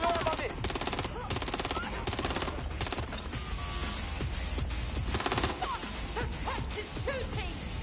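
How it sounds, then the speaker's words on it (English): Loud rapid automatic gunfire in the video game Watch Dogs: Legion, repeated bursts of cracking shots with impacts and clatter, close and sustained, with voices calling out during the firefight. "Suspect is shooting!"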